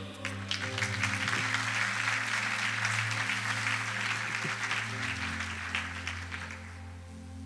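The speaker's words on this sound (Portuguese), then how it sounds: "Pode aplaudir." Congregation applauding in a church service, a sustained even roar of many clapping hands with a faint low hum beneath, fading slightly near the end.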